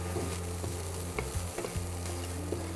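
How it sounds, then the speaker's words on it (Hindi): Vegetables sauté lightly in a pan with a soft, steady sizzle and occasional stirring scrapes and taps, close but quiet, without any speech. "थोड़ा सा इसको भून लिया जाए पहले हल्का"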